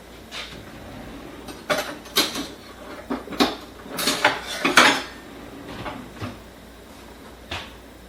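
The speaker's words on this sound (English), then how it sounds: "And grab a bowl here. Right here. And a spoon. Now let me get a ladle." A bowl, a spoon and a ladle are taken out in a kitchen during wild rice soup making. A lively run of ceramic and metal clinks and clatters is heard up close, busiest in the middle, with no one talking.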